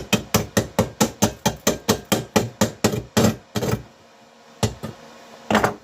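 Slag is chipped off a stick-welded electrode seam in a rapid, even run of about fourteen sharp metallic knocks. After a pause, a few more isolated strikes follow.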